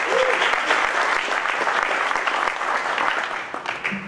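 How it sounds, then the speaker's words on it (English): A meetup audience claps steadily in a dense, sustained round of applause that stays loud throughout and tapers off slightly at the end, with a few voices mixed in under the clapping. "Let's give him a round of applause for being here."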